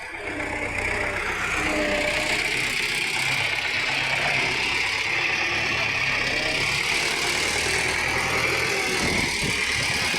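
A tractor disking a plot of land drones steadily throughout, loud and continuous, with scraping and crunching noises mixed in and no talking.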